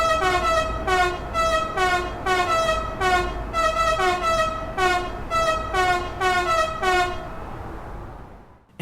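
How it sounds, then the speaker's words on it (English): A BR193 Vectron electric locomotive's horn plays a musical riff: a steady run of loud, close, rhythmic tonal blasts in repeating phrases, ending as the last note fades out. "I can play a few different musical riffs on the locomotive's horn"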